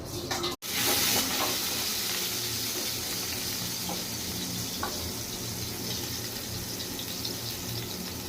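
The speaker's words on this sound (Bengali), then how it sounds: "আর উচ্ছে ভাজা হচ্ছে।" Sliced bitter gourd frying in oil in a pan, giving a steady, close sizzling hiss that carries on evenly after a brief cut near the start, with no talking.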